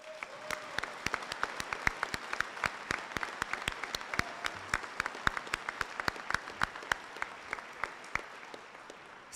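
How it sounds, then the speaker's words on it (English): Scattered, uneven hand claps from a modest audience at a community service salute ceremony, sharp individual slaps crowding together and continuing steadily for several seconds. "Please join me in a round of applause."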